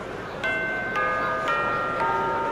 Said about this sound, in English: Oh, there's the bell.